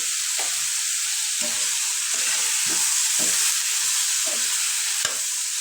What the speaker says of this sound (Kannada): ಇವಾಗ ಚಲೋತ್ನಾಗ ಟೊಮೆಟೊ ಮ್ಯಾಶ್ ಆಗಲಿ ಅಲ್ಲಿವರೆಗೂ ಫ್ರೈ ಮಾಡ್ಕೊಳ್ಳೋಣ